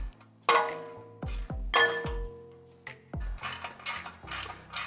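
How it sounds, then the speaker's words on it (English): Ratchet wrench forced like a breaker bar to loosen a ball joint bolt on a Toyota T100, giving several sharp metallic clanks and clicks at an irregular pace, close and fairly loud, with no talking. "It's definitely not recommended to use your ratchet as a breaker bar, but sometimes that's the quickest way."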